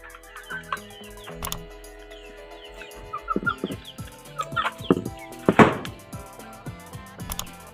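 Chicks kept in individual cages give high, short cheeps and clucks in scattered bursts, close by, along with intermittent pecking and knocking sounds.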